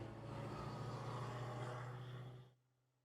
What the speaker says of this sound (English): That was the sound of the alien driving a truck.